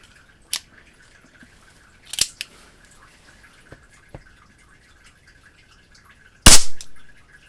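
A Shakespeare Acro CO2 air rifle fires a few sharp, isolated cracks spaced seconds apart, the last shot the loudest with a brief tail, amid quiet clicks and handling noise.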